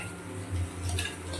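Ground soya chunks are stirred in a cooking pot, giving soft continuous scraping and clinking of a utensil against metal with faint wet sizzling underneath, steady and close, with no talking.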